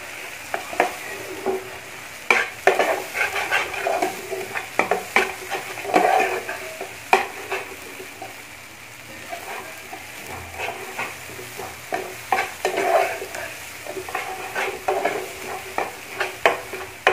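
Goat brain fries in a pan while a utensil stirs it, producing repeated scraping clatters and clicks over a light, close sizzle, with uneven bursts of stirring throughout and no talking.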